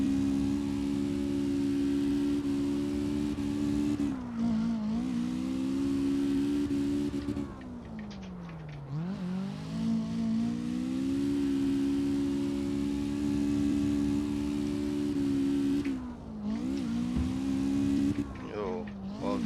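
Toyota AE86 Hachi-Roku engine in CarX Drift Racing Online, droning loud and steady while drifting, with pitch dips at upshifts around five and nine seconds and more shifts near the end.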